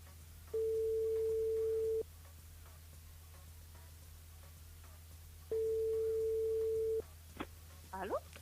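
A telephone line rings while a radio host calls a contest caller: two long, steady ringback tones separated by a few seconds of quiet line hiss, followed by a brief clatter as the call is picked up.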